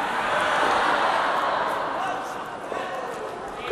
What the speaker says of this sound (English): Groan from the crowd.